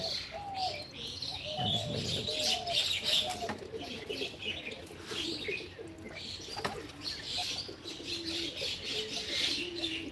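Several pigeons coo softly and repeatedly, with chirps and occasional wing flutters around them, fairly close in a quiet setting.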